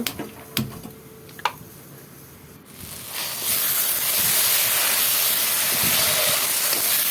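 Spice paste frying in a pan for a Bengali vegetarian dish: a steady, loud broadband sizzle and hiss that builds from about halfway through, after a few scattered clicks and pops. No voices.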